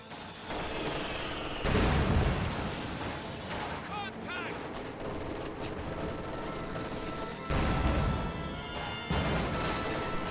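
Mortar fire and explosions from a WWII real-time strategy battle on ice, heavy booming blasts at intervals over continuous battle din, with background combat noise throughout.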